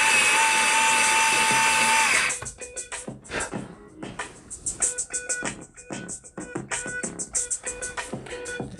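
Light sap green colored pencil being sharpened, giving a loud, steady, high-pitched grinding whine for about two seconds that then stops, followed by lighter scratchy pencil sounds.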